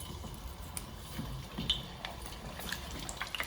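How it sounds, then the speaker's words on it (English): Potato chips slid into hot frying oil for fish and chips, giving a steady, fairly quiet crackling sizzle that holds for the whole stretch. "Put them in slow so we don't splash oil everywhere."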